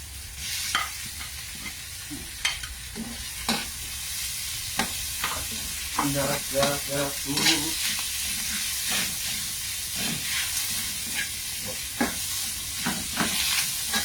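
Pork sizzles and fries in a pan with a steady hiss, broken by repeated sharp scraping and stirring strokes, while a brief voice cuts in near the middle.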